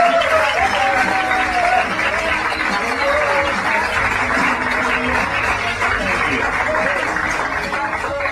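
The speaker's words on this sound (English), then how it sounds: "Thank you for applauding." A comedy-club audience applauds and cheers steadily as Louis C.K. comes on stage, a dense, sustained wash of clapping with scattered whoops.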